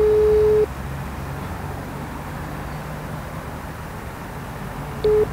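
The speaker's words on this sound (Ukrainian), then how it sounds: "Наразі Михайло Смушик не відповідає на наші телефонні дзвінки." An unanswered telephone call gives a ringback tone: a steady beep sounds for about half a second, then after several seconds of low hum a second beep begins.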